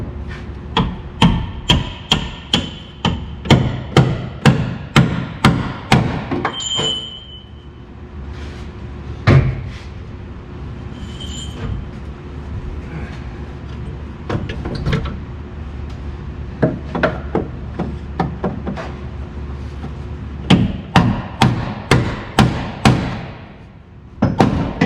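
A hand chisel struck with a hammer, worked manually rather than with an air chisel, gives rapid runs of sharp metallic blows close by, separated by quieter pauses with a few isolated hits.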